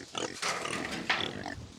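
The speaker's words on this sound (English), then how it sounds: "Watch out, pigs." Pasture pigs grunting and snorting in a quick run of rough, nasal bursts, fairly close, with a noisy farmyard background.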